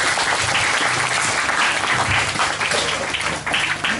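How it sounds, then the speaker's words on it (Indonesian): Audience at an Indonesian religious gathering breaks into loud, sustained applause, many hands clapping in a dense, steady wash that barely dips across the whole stretch, with no one speaking over it. "Tepuk tangan tuh."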